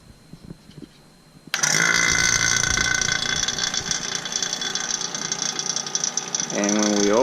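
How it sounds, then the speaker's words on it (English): A vacuum pump starts abruptly and runs loud and steady with a mechanical whine and buzz while hooked to the AC system of a 2003 Mini Cooper during compressor and drier replacement, with a brief tone shift near the end. "So next step is to turn the vacuum pump on."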